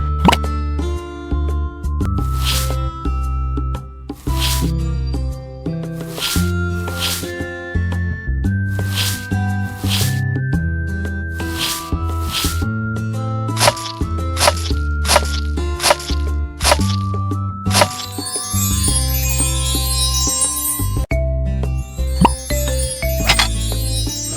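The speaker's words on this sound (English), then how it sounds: "Let's cut the fruits." Bananas and other fruit are sliced in a cartoon ice cream factory. Crisp, cartoonish chopping plops land in a steady rhythm over bright, bouncy background music.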